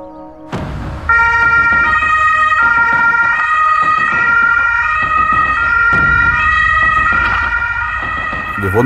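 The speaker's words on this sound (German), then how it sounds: "wir wurden hier mit Blaulicht und Martinshorn alarmiert" A German ambulance's Martinshorn siren wails loud and close during an emergency call-out in Stuttgart, holding steady tones almost without a break after a brief lead-in.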